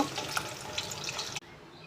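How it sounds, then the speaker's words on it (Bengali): Eggs frying in a pan in a home kitchen give a faint, steady crackling sizzle that cuts off abruptly after about a second and a half. "আর এইদিকে ডিম ভাজাভাজি হচ্ছে"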